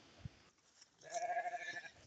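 A meat sheep on a farm gives a single wavering bleat, close and clear, after a brief thump and a quiet pause.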